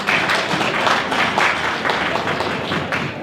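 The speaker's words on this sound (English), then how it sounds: "Another round of applause for her" School gala audience giving another round of applause, a loud close burst of clapping with uneven hand claps rising and falling over a few seconds.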